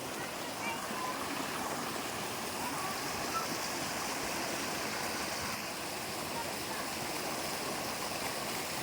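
Rushing water of Bugasong Falls and its stream in Leyte, a steady broadband roar heard at moderate distance, fairly faint and continuous.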